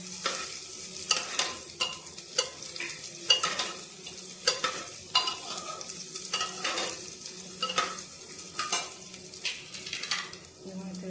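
Tomatoes stirred and cooking in a pan for khichdi, with a soft steady sizzle under repeated scraping strokes of a spoon at a regular rhythm, close and moderately loud, no talk.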